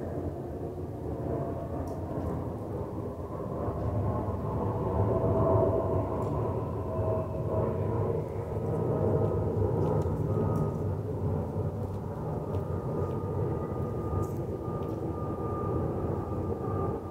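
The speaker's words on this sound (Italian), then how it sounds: "Adesso devo passare l'aereo" Airplane passing overhead on New Year's, a broad steady rumbling roar that swells slightly in the middle and holds across the whole span, with faint scattered crackles.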